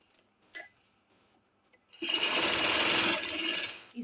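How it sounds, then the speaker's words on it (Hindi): A sewing machine runs a double line of stitching on a fancy shirt, starting after a couple of soft clicks and whirring steadily and loudly for about two seconds, with no voice. "अब हम डबल सिलाई कर लेंगे, इधर एक सिलाई और।"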